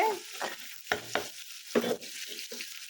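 Turmeric stirred into a pan of frying onions and green chillies for a fish dish: a soft sizzle with several distinct scraping spatula strokes at uneven intervals, close up and without voices.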